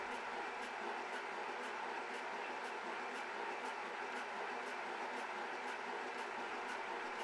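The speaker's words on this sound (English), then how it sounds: "With the SCBA tank's yoke open now, it's accepting air from the compressor." An air compressor fills an SCBA tank through its open yoke, a steady, even mechanical hiss and drone that runs without a break, with faint regular ticks pulsing through it.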